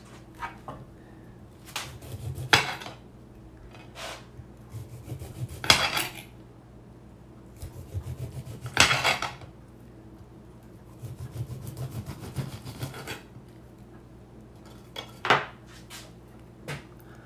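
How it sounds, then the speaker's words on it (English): Knife slicing through a rested, smoked 12 lb brisket, giving soft, scattered scraping and cutting strokes at close range with clinks against a board or pan, fairly quiet overall. "We're gonna give it a slice and see what it looks like on the inside."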